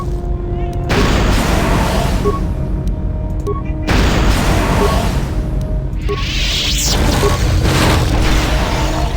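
Frag grenade explosions in the video game Star Wars KOTOR 2, three heavy booming blasts a few seconds apart over loud combat noise, with a voice speaking in the mix.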